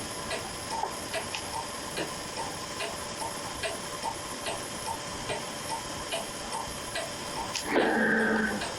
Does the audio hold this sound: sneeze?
no